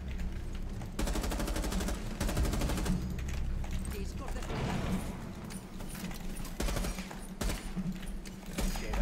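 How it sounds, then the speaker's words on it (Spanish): Rainbow Six Siege gameplay gunfire crackles in rapid bursts of automatic shots, repeated in clustered volleys with short gaps, fairly close and sharp over a busy game background with some talk mixed in. "Lo que voy a hacer es seguir pegando aquí disparos"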